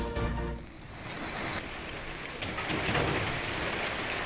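Heavy monsoon-season rain pours in Dehradun district, Uttarakhand, around Chakrata, as a loud, dense and constant hiss of falling water with no voices.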